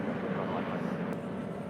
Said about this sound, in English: That was JetBlue Airways Flight 1570 heading to Cancun in an A320.